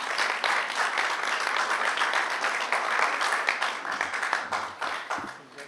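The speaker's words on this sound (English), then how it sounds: "let's just give them one more round of applause" A room full of people gives a steady round of applause for scholarship recipients at a Kiwanis awards evening, dense clapping sustained throughout before thinning out and fading near the end.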